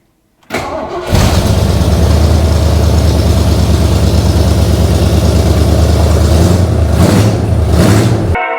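A 1979 Ford F250 Super Cab engine with a Holley carburetor cranks, catches, and settles into a loud, throaty, steady idle close by.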